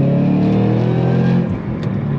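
Roush P-51A Mustang V8 revving hard on throttle, a loud sustained engine roar that eases off briefly then builds again, close and alone.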